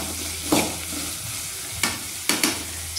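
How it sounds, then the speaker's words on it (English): Onions sauté in a pan for mushroom gravy, giving a steady soft sizzle with a few sharper stirring scrapes against the pan, close and alone with no talking. "We have to saute it until it gets a golden brown color"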